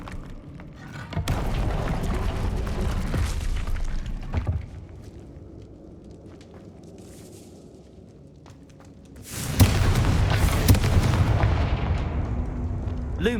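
A Confringo blasting spell explodes in Hogwarts Legacy, a heavy boom with a rumbling tail. A second burst of blasts follows after a quieter stretch, and other game sounds play in the background.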